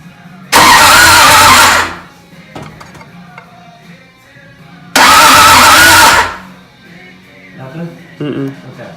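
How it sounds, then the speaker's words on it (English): A car engine on a project car cranks over twice without firing, each burst a loud, rough churning lasting about one and a half seconds, separated by quiet pauses with faint voices talking nearby. "You just turn the car over?"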